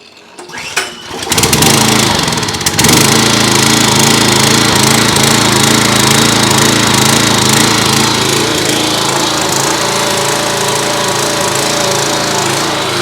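A Simpson pressure washer's small engine with carburetor trouble, running at half choke, catches after a brief start and settles into a loud, steady, close-up roar with a rough mechanical rattle.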